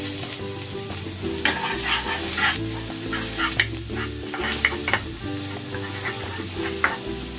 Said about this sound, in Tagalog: Gigisa na ako ng luya at ng bawang.